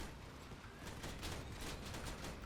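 Enemy gunfire in the Crossout vehicle combat game, a dense fusillade of rapid shots crackling steadily throughout, moderately distant and fairly quiet, with no talk over it.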